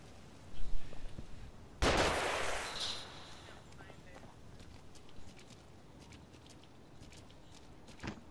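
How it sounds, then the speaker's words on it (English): Enemy gunfire in an Xbox One co-op shooter, one loud close blast followed by scattered fainter shots and rustling movement, with a few sharp reports toward the end. "Find cover. They're shooting."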